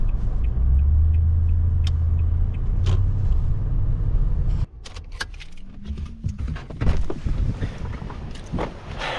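A car on the road gives a steady, loud low rumble that stops abruptly midway, followed by jangling keys and scattered clatter and knocks.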